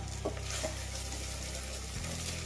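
Taro (colocasia) pieces fry in oil in a covered pan, giving a soft, steady sizzle under a low hum, with a couple of faint clinks.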